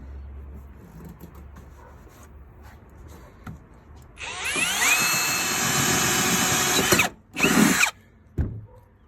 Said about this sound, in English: we're going to drill our last hole